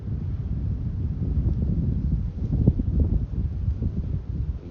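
Wind buffets a small Autel Evo Nano Plus drone during a night flight, a continuous low rumbling roar that swells slightly midway and stays steady and close.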